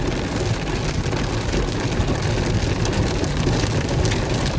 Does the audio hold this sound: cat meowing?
no